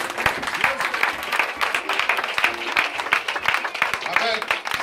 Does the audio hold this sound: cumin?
no